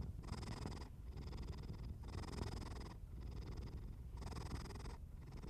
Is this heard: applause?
no